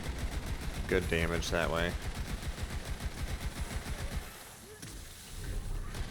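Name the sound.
gunfire shooting a boss in video game Borderlands 3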